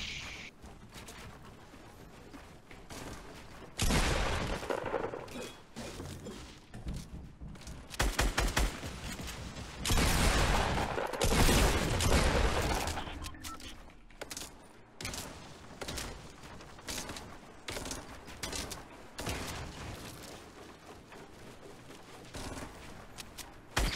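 Gunfire in the Fortnite battle royale video game, with rapid bursts and fusillades of shots coming in clusters, some louder and closer, others fainter, scattered across a steady background.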